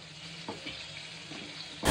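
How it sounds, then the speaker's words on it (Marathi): Bombay duck fish frying in hot oil with curry leaves gives a steady, soft sizzling hiss with a few light pops, ending in a sudden louder burst of crackling. "त्याच्यानंतर मी तेलावर कढीपत्ता टाकला आणि बोंबील डायरेक्ट मी फ्राय करायला घेतले"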